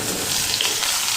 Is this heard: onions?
yes